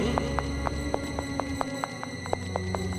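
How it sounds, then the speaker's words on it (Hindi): Horse hoofbeats in a rural setting, a steady clip-clop of repeated hoof strikes over a low background hum, approaching and fairly close. "ये तो घोड़े के टापों की आवाज है।"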